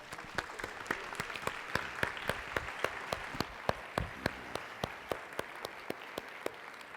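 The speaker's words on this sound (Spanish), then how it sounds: "un fuerte aplauso" An audience at a La Salle school event in Mexico claps to welcome a guest, a sparse, fairly quiet applause with distinct individual hand claps standing out at a steady, rhythmic pace throughout.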